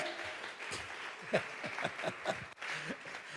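A church congregation claps in a short, scattered burst of applause, fairly faint and uneven, mixed with background voices.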